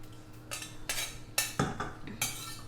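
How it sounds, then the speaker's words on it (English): A spoon works through mayonnaise, sweet chili sauce and ketchup in a bowl. It makes a string of close scraping clinks in uneven bursts, about half a dozen strokes in quick succession, with no talking. "we have mixed the mayonnaise and the sweet chili sauce, ketchup"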